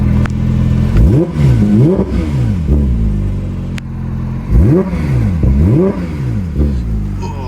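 A Porsche GT3 engine revs sharply several times, rising and dropping in quick blips, in two bursts separated by a brief idle. Loud and close.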